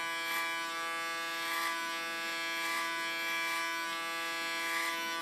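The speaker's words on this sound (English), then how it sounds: "Again, in a position that I can comb with my clipper." An electric hair clipper fitted with a comb buzzes steadily and close while cutting hair to about 3 millimeters, its hum swelling slightly in regular passes, with no talking.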